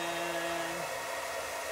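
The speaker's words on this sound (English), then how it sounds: "Okay, so I got the hair dryer here." A hair dryer blows with a steady, broad whoosh and a humming motor tone that shifts pitch partway through, close up with no talking, bouncing a ping pong ball on its airflow.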